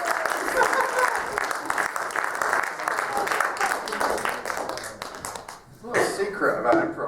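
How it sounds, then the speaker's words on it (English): Comedy club audience at an adult-only improv set claps in a sustained round of applause, fairly dense and close, fading briefly near the end before swelling again. "Big round of applause there."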